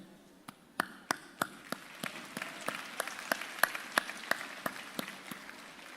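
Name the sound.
commencement audience applause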